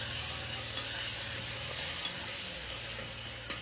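Onion and spices frying in a pan while making goat meat curry, a constant loud close sizzle with soft stirring.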